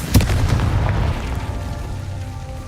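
Confringo spell explosion in Hogwarts Legacy: a single loud burst at the start with a deep boom that decays into a rumbling tail lasting a couple of seconds, heard alone without talk.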